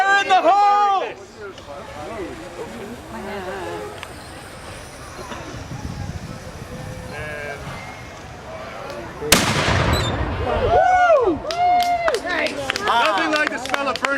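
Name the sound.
flintlock blunderbuss firing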